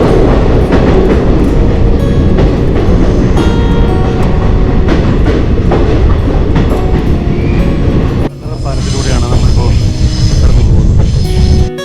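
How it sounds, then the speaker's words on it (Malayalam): A train on the Punalur–Thenkasi line through the Western Ghats runs with a loud, continuous rumble and rhythmic wheel clatter close by, and the sound briefly dips and shifts near the end. "57 കിലോമീറ്ററുകളുള്ള ഈ റൂട്ടിൽ 5 ടണലുകളിൽ കൂടിയാണ് നമ്മുടെ ട്രെയിൻ കടന്നു പോകുന്നത്."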